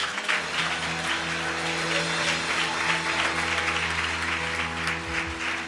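A church congregation at a worship service in Lyon applauds steadily and densely throughout, a continuous wash of clapping over a low sustained musical tone.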